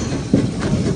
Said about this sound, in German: Das laute Schnauben der Krauslok stört hier keinen, im Gegenteil.